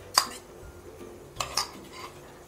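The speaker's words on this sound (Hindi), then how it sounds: "मैंने यहाँ पर 1/4 कप उबली हुई लौकी ले ली है, इसे हम इसमें डाल देंगे।" Boiled bottle gourd goes into half a cup of yogurt for raita, with two or three light, close clinks of a spoon against a dish in a quiet kitchen.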